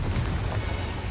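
A spell blast goes off in the Hogwarts Legacy video game as a dense, roaring explosive rumble, loud and sustained through the whole short burst.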